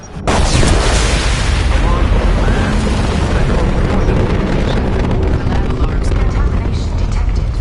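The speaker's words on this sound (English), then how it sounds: "Impending explosion." Explosion in the video game Mass Effect 2, a loud, dense, sustained rumbling blast with crackling debris that fills the whole stretch without letup.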